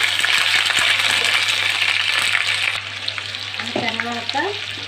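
Ginger garlic paste sizzles in hot oil in a pan, a loud steady frying hiss with utensil scrapes and clinks. Toward the end the hiss drops a little and stirring knocks stand out.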